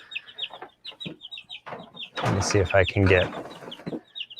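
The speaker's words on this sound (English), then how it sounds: "So we'll have 6 chickens in total." Chickens in a brooder clucking and chirping in short repeated bursts close by, with a person talking over them for part of the time.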